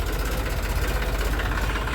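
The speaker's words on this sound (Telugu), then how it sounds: "ఈ ట్రాక్టర్లో గట్ట అన్ని చూస్తున్నారు కదా, సౌండ్ అయితే బాగా వస్తుంది" Steady, close engine drone from a tractor working in a farm field under hot sun, a low continuous rumble holding an even level throughout, with no voices.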